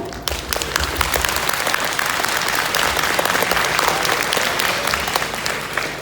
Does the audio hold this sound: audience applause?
yes